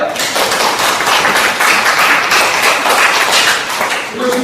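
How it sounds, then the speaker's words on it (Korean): Sustained audience applause fills a university social welfare lecture hall: dense, even clapping from many hands that holds steady and loud without a break. "다 같이 힘찬 박수로 격려해 주기"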